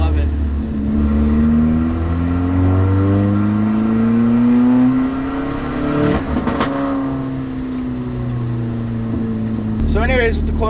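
Nissan S14 engine running loud and steady, with harmonics sweeping up as it revs then easing back, fitted with coilovers; a brief clatter near the end.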